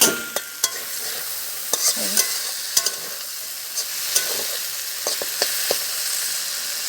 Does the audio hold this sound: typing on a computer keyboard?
no